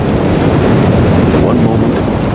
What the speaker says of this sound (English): A storm is brooding up across the water.